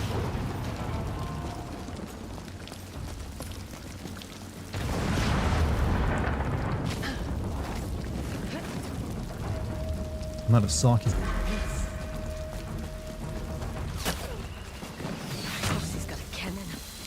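Cannon fire in the video game Ghost of Yotei: a heavy boom surges up around five seconds, then a couple of sharp close blasts near eleven seconds, set against steady game ambience while someone talks over it.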